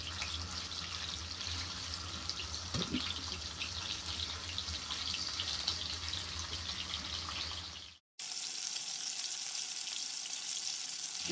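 Steady, dense sizzling of chicken roast frying in hot oil in a wok, loud and close, cutting out abruptly near the end before resuming.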